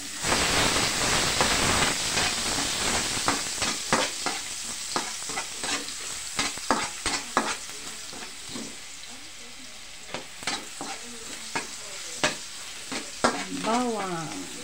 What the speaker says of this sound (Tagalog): Ilagay na po natin ang bawang.